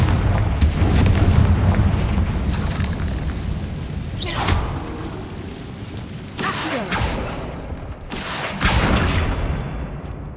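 Confringo blasting spells explode in the Hogwarts Legacy video game, several loud booming blasts in sequence, each a sharp burst with a rumbling tail, alone without talking.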